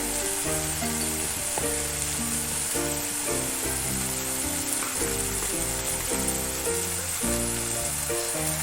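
Turmeric and cumin frying for chicken bhurji, a steady close sizzle running throughout beneath continuous background music.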